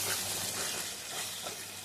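Masala paste sizzles and fries steadily in a pan, a faint, even hiss of cooking with no talk over it.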